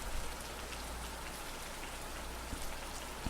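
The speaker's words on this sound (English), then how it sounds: "only the sound of falling rain remains" Steady rain pours down in a forest in the indie visual novel game Deluge, a dense unbroken hiss with a low rumble underneath, and no voices.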